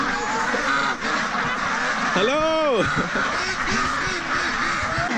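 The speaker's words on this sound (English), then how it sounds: "Welcome to duck heaven." Ducks gather in a busy flock, with dense overlapping calls and quacks running throughout, one loud nasal call standing out near the middle. A person speaks briefly over the steady din.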